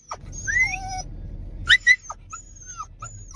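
A dog on a cattle ranch whimpers and lets out high, thin yips in a few short bursts, close by, over quiet low background noise.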